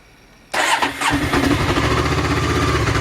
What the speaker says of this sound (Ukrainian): Ну що, пробуємо завести, що там, рахуємо циліндри.